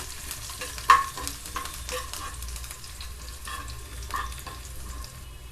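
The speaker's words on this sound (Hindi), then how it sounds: "1 पिंच हींग डालेंगे और अच्छे से लहसुन को फ्राई करेंगे" Garlic with a pinch of asafoetida sizzles and crackles steadily in hot oil for green peas dal, with a spoon stirring and scraping the pan now and then; no voices.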